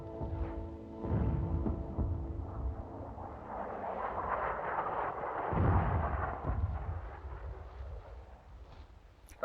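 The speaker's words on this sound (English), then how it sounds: "Artillery smoke shells prevent flanking fire of the enemy from the woods." Artillery firing smoke shells, deep booming blasts rolling out one after another, with a heavy rumbling impact midway and the thunder slowly fading, dull and muffled as if on an old recording.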